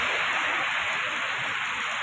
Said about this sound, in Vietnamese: Tới giờ này là 1 giờ rồi mà trời vẫn còn mưa lớn.